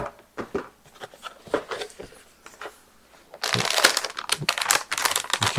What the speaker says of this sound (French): On va la déballer.